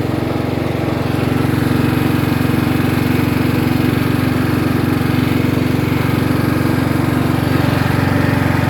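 A small vehicle engine runs steadily in top gear, a loud continuous drone with a constant low hum that holds throughout, with no voices heard.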